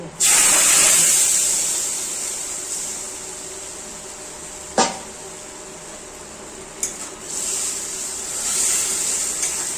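Hot spiced-oil tempering hits mango sour with a loud hissing sizzle that surges at first and then settles into a steady hiss, broken by a couple of sharp clinks.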